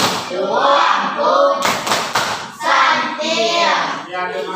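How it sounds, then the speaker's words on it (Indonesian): A class group at an elementary school clapping a rhythmic applause chant, bursts of hand claps in patterned sequences mixed with chanted voices, loud and close. "kita kasih tepuk santian kepada kelompok 1 dulu"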